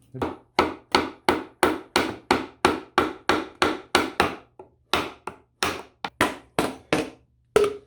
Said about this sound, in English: Try with the bigger hammer.